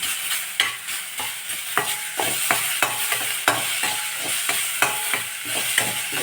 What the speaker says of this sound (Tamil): ஓரளவுக்கு வதங்கிடுச்சு தக்காளி.